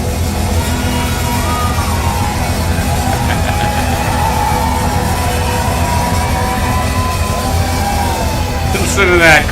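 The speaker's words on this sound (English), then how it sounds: "Listen to that crowd, bro." A live concert crowd roars continuously, a loud wash of yelling, whooping and cheering that holds steady throughout, with a brief louder burst near the end.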